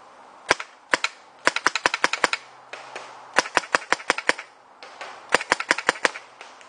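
A GOG hybrid paintball marker fires sharp, loud shots in quick bursts of several rounds, crisp close pops with brief pauses between volleys.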